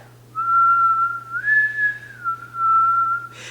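A lone whistled melody from The Killer (2024) film soundtrack, clean and steady, holding long tones with a brief rise in the middle, over a low constant hum.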